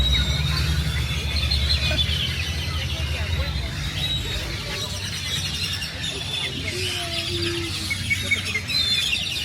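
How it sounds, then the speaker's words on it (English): Chickens clucking and squawking in a rural Mexican town setting, agitated bird calls scattered over steady outdoor background noise, with people talking nearby. "those birds were going crazy"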